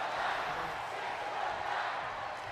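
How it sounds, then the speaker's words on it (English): A video-game wrestling arena crowd in WWE 2K25 roars with a dense, steady chanting wash that holds at an even level throughout without breaks. "In the crowd chanting 619."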